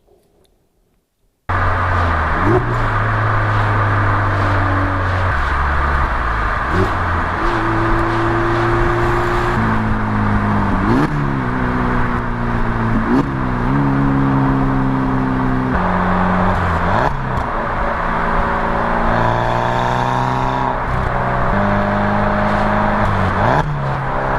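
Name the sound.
2016 Mazda Miata turbo exhaust with aftermarket muffler, downshifting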